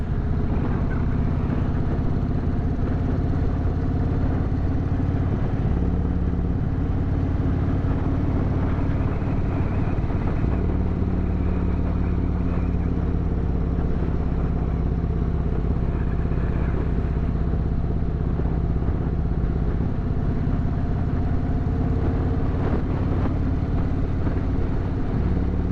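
A motorcycle engine runs steadily on the Million Dollar Highway mountain route, a loud continuous drone with shifting pitch as the rider holds the throttle, rumbling close up for the whole stretch with wind noise over it.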